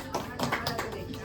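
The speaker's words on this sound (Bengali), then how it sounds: "সবাই হাততালি দাও জোরে জোরে" A group claps hands at an engagement and court marriage celebration, with a quick run of sharp claps over a little more than a second, mixed with voices talking nearby.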